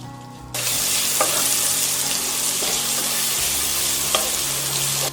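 Chopped onions with a pinch of salt fry in a hot pan for biryani, giving a steady, loud, close sizzle that rushes in after a brief quiet start, with a few faint scrapes and clinks.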